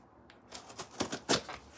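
Scissors cutting open a cardboard package, a short run of quick crisp snips rising in loudness, close and alone without talk.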